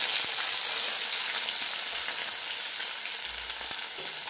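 Dried red chillies and spices sizzle in hot oil as a tempering for potato curry, a loud continuous crackling fry close to the pan, alone without voices.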